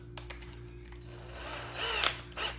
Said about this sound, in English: Go ahead and drill that out.